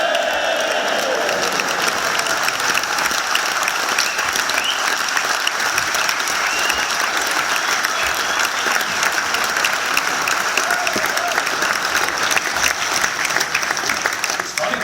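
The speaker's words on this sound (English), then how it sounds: "give Conservative Mayor of London Boris Johnson a big cheer for saying that" Audience at a UKIP political speech in Wales clapping and cheering, a steady, dense wash of applause from a large crowd lasting the whole stretch.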